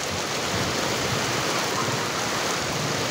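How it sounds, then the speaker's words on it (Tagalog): Heavy rain pours in a dense, steady, loud hiss without pause across San Jose del Monte, Bulacan, with no voices over it. "Lakas ng ulan."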